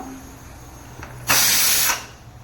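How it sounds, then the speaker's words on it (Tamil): After a faint hiss, a pressure cooker of lentils, opened after three whistles, lets out a loud, forceful burst of steam for about half a second, then quickly cuts off. "பருப்பு மூணு விசில் வந்துருச்சு நம்ம இதை ஓப்பன் பண்ணிக்கலாம்"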